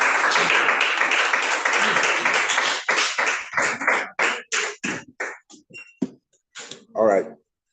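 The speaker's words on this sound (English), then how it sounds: "Keep clapping till you come in." A club meeting audience claps as the Toastmaster, the day's table topics master, walks in: dense sustained applause thins into scattered individual claps, then a voice speaks at the very end.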